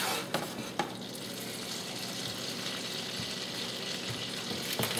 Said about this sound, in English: Your butter is getting nice and hot.